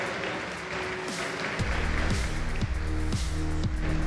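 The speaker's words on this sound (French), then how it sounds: "on peut l'applaudir, s'il vous plaît." An audience at a Hearthstone tournament final claps in a sustained burst of applause, with low rhythmic thuds and tonal music swelling underneath partway through.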